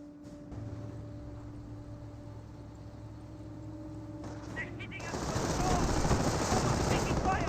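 MP40 submachine guns fire in the Company of Heroes video game. Rapid bursts of automatic fire swell into a dense, loud rattle over the second half, following a quieter stretch of hum and distant battle noise.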